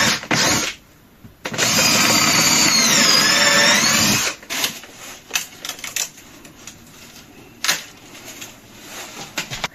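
A power drill whirs loudly for nearly three seconds while boring holes in attic battens beneath a roof, preceded by a brief burst and followed by scattered knocks and clatter of wood and tools.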